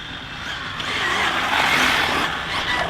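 A ZD Racing EX-07 RC car drifting, a steady high-pitched electric motor whine with tyre hiss rising and holding loud and close for a few seconds, no voices.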